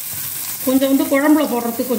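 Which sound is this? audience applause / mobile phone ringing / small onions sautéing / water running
small onions sautéing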